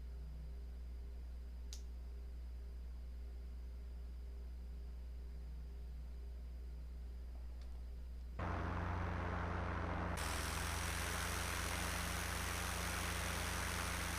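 An unmanned aerial vehicle engine climbing out of Teterboro Airport gives a steady, unbroken drone with a faint tick, then turns abruptly louder and harsher about two thirds through and holds there, with no voices.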